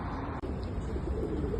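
Pigeon cooing in Stockport during a bird rescue, a low soft coo running steadily under faint background noise, close and continuous through the short stretch.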